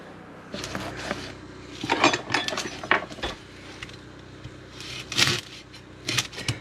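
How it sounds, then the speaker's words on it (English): A knife chops a red onion for moose stew, producing irregular close crisp taps and slices against a cutting board, some bunched in quick runs and some spaced apart, without any speech. "I'm going to cut my onion up and get my onion prepped and ready to go"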